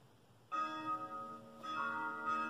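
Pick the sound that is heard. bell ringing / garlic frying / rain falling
bell ringing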